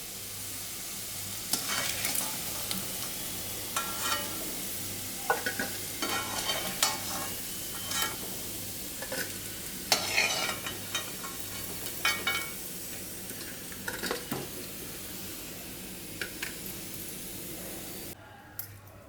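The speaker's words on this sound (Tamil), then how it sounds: "இந்த அளவுக்கு வந்து ஃப்ரை பண்ணி எடுத்துக்கலாம்" Mutton kola urundai meatballs frying in hot oil, a constant sizzle broken by repeated stirring and scraping sounds, heard close with no talking.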